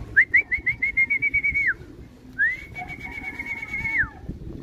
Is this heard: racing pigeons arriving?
yes